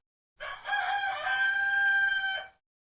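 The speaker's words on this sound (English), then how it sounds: "and chicken clock." Chicken clock alarm playing a rooster's crow, a single drawn-out cock-a-doodle-doo about two seconds long, loud and alone.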